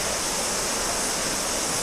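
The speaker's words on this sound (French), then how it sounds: "me voilà pour une dernière petite cascade" A small waterfall on New Zealand's west coast rushes in a steady, loud, unbroken wash of water noise, close and alone.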